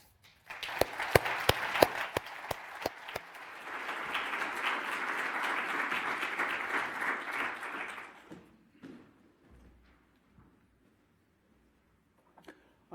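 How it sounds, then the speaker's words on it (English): An indoor audience claps in steady applause welcoming a speaker at an Out in STEM event, starting with a few sharp individual claps, swelling into a dense roar for several seconds, then fading out into near silence. "give a round of applause and welcome to Keith"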